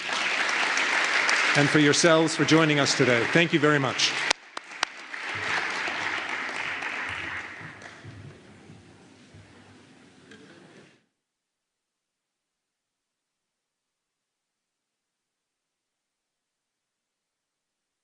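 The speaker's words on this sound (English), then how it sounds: "One final round of applause for all of the winners today" Audience at an entrepreneurship summit tech finals applauding the winners, a steady burst of clapping under a man's closing thanks that fades out and ends in silence.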